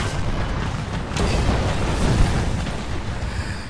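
A tank cannon in the War Thunder game fires with a deep, heavy boom followed by a long rumbling roll that swells and then slowly fades, loud and close, with no voices over it.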